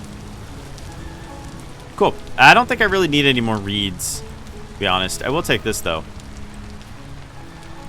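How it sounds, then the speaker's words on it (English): Steady rain falls in the video game Vintage Story, a soft constant hiss spread across the whole stretch, running beneath a voice talking in the middle part. "I wish this darn rain would stop."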